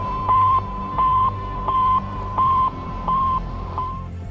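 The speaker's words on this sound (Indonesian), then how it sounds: "Sputnik memancarkan gelombang yang bunyinya seperti ini." Sputnik satellite radio signal: a regular series of six short, even electronic beeps over a crackly, hissing radio background.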